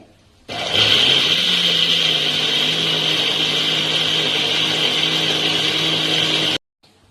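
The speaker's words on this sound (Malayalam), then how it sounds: "ഇപ്പൊ നമ്മളിനി ഇത് ഈ മിക്സിയുടെ ജാറിൽ ഇട്ടിട്ട് ഒന്ന് അടിച്ചെടുക്കുകയാണേ" A mixer grinder blends chopped bananas into a shake, starting with a click and then whirring loud and steady for about six seconds before stopping abruptly.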